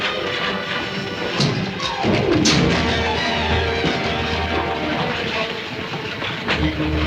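Train rolling on tracks in a 1955 film scene, loud continuous rumble with rhythmic clatter and metallic screeches, close and steady throughout.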